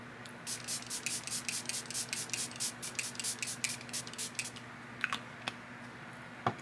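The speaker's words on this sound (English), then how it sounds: "So let's just go in with some setting spray." A rapid series of about a dozen close, hissing spritzes from a spray bottle, followed by a few scattered clicks.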